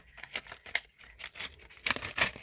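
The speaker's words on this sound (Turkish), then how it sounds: "Şöyle bir makasla keselim." Scissors cut open a handmade gift box, making a run of close, crisp snips and crinkles of card and paper in short bursts, with no talking.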